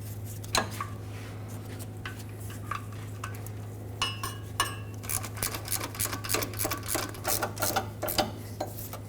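A hand tool tightening transmission mount bolts on a 2007-2014 Chevrolet Silverado 2500 HD gives quiet metallic clicks and ratcheting taps that grow quicker toward the end, close by, over a steady low hum.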